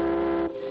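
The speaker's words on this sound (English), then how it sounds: "Somebody heard your whistle, Joe." A steady, loud boat whistle blast with a strong tonal pitch cuts off abruptly, leaving a softer hum behind.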